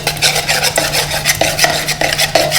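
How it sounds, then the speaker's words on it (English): A utensil stirs yeast mixed in liquid for pizza dough, with quick, repeated scraping strokes against the bowl in a brisk, continuous rhythm close by. "So in goes the yeast. Give it a mix."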